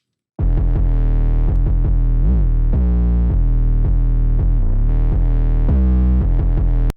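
A heavy, distorted 808 bass line in a hard trap beat plays alone, booming sub notes with gritty drive, some sliding in pitch, continuous for several seconds.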